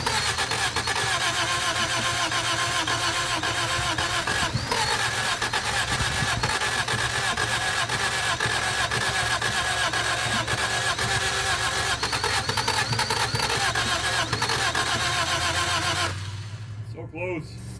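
A 1978 Honda Civic that sat unused for 26 years, its engine cranking continuously and trying to catch, a loud steady mechanical drone with voices talking over it before stopping near the end.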